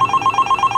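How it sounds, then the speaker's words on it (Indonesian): A telephone rings with an incoming video call in a children's Sunday school class, giving a loud, close electronic warble of rapid repeating pulses with no talking over it. "Ini ada telepon."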